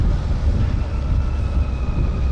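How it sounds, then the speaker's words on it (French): Steady, loud wind rumble buffeting a microphone outdoors near a beach in Normandy, a continuous low roar without breaks and no voices. "il y a du vent qui se lève."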